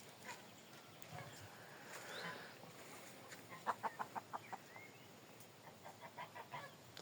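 Crested, bearded hens cluck in a roomy aviary roofed with green netting, a series of soft, rhythmic calls rising from a faint, quiet background.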